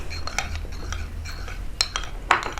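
Spoon stirring a mix of tomato, potato and lemon juice in a bowl, giving soft scattered clinks and scrapes against the container, with a few sharper taps near the end.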